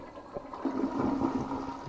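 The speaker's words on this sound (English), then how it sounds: "So that's your first flush." An American-Standard toilet flush valve flushing during a valve replacement: a steady rushing, gurgling water flow at moderate level, heard alone without talk.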